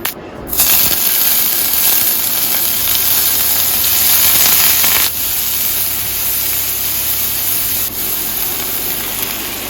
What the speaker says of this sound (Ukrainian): додала сюди масло топлене і зараз буду смажити яйця